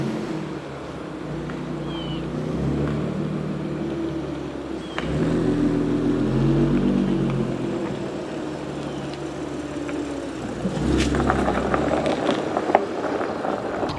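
Low steady idle of an Audi B8.5 S5 fitted with an AWE Touring exhaust, a deep even rumble close by that swells slightly midway and again near the end, with no talk.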